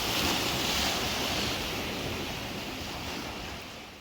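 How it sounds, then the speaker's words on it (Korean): Ocean waves break and surge in and out of sea caves along the rocky California coast. The roar is loud, steady and continuous, with wind rushing across the microphone. "물이 들락거리며 파도가 부서지는 바다 동굴도 볼만합니다."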